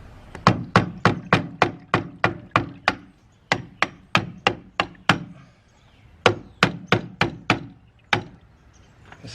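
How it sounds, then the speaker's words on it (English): Sharp, rhythmic knocks ring out while a part is pried off with a screwdriver during a 50-hour service on a Bobcat E35 mini excavator. About twenty close, loud whacks come in quick runs with brief pauses between them. "Now we're just bending the screwdriver."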